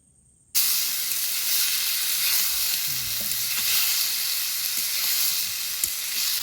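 Carrot, green chilli, onion and capsicum stir-frying in hot oil: after a brief quiet start, a loud, steady, dense sizzle runs throughout, broken by occasional soft scrapes and clicks of stirring.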